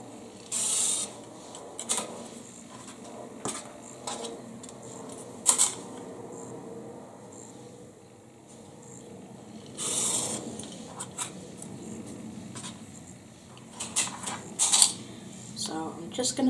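Close, intermittent crisp snips and rasping cuts through quilting fabric being cut into triangles, scattered irregularly with handling rustles between them.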